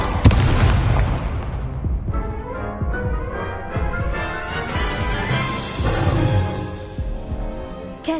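An Incendio fire spell cast in Hogwarts Legacy bursts out as a loud fiery blast. A crackling, rumbling roar follows and slowly fades over several seconds.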